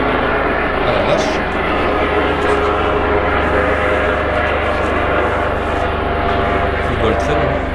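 A search helicopter flying overhead at night produces a loud, steady rotor and engine roar that fills the whole clip, with people talking over it.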